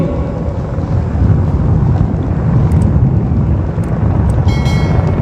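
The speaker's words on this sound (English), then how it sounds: "Apache helicopter victory formation में कर्तव्य पथ के ऊपर पहुंचते हुए" Apache helicopters fly in victory formation over Kartavya Path during a Republic Day parade, giving a loud, steady low rumble that fills the air continuously, with no talk heard.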